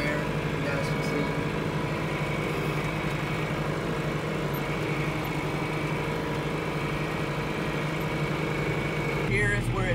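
Steady low engine rumble from a tractor idling nearby during field disking, continuous and loud throughout with no break.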